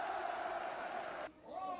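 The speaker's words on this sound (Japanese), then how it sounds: "大きな歓声が沸き起こりました。" A boxing crowd at a title-fight ring ceremony roars loudly, a steady, dense wall of cheering voices that drops briefly and then surges back.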